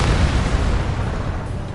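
A missile explosion in the combat flight game Ace Combat 7 rolls out as a deep, sustained boom that slowly fades over a second or two, with no voices over it.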